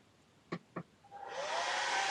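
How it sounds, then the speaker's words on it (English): Two quick clicks, then a hair dryer on its lowest setting, powered by a BLUETTI EB70 portable power station, whirs up to a steady, soft blowing hum, fairly close. "On its lowest setting, it looks like the hairdryer is going to work."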